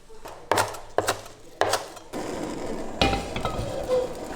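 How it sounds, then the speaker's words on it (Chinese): Kitchen knife chopping cilantro on a cutting board: three sharp, evenly spaced chops close up, followed by quicker, rougher cutting and scraping sounds. "香菜切断"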